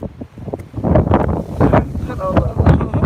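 Gusty wind buffets the microphone in loud, uneven low rumbles, with faint voices partly buried underneath.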